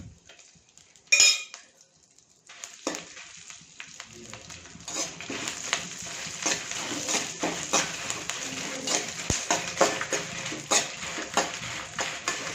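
Red chillies and garlic cloves roasting in sesame oil in a pan, with a clang of utensils at the start, then steady close scraping and stirring against metal over a soft sizzle.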